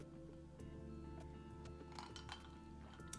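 Glasses clink in a toast at a home bar during a sip-and-stream drinks session, with light scattered chinks and faint liquid sounds over a steady background hum.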